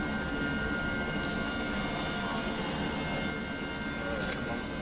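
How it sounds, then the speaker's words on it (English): An AV-8B Harrier jet engine spools up in the DCS World flight simulator as a steady, loud whine and roar that holds for the whole stretch, with a voice talking over it. "let's get this engine going"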